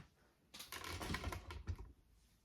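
A sewing machine runs for about a second, topstitching around the zipper on the front of a crossbody bag. It gives a rapid, close mechanical rattle that starts and stops abruptly in a quiet room.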